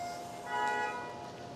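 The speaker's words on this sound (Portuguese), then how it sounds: "a cada 30 minutos a igreja dá um badalo do sino, avisando de meia em meia hora" A church bell in the Benfica neighbourhood of Lisbon strikes a single half-hour stroke, its steady ringing tone swelling briefly and then decaying over a constant outdoor background.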